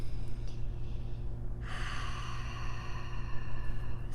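Slow breathing held through a yoga pose, a soft steady inhale and exhale with an audible airy rise partway through, close and fairly quiet over a low background hum.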